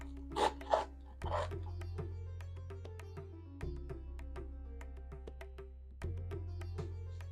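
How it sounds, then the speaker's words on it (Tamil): A knife roughly chops washed fresh coriander on a cutting board, making quick, faint, repeated taps and scraping rubs over a low steady kitchen hum, with no voices. "அலசி எடுத்ததை ஒரு கட்டிங் போர்டில் வச்சு சும்மா ரஃப்பாக கட் பண்ணு"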